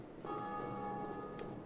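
A single bell rings in Dark Souls Remastered, a faint sustained metallic tone with a long ringing decay.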